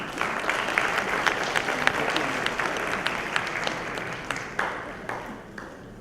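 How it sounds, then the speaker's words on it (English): An audience at a debut event applauds, with steady clapping that holds for several seconds and then thins out toward the end. "One more big round of applause."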